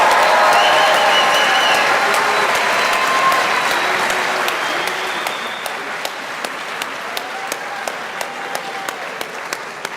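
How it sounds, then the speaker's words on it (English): Graduation ceremony audience at the University of Washington bioengineering celebration giving a round of applause for graduates and supporters, a loud, dense clapping that gradually thins, leaving a few scattered louder claps near the end. "Can we just have one last round of applause for all of our graduates today and for all of their supporters?"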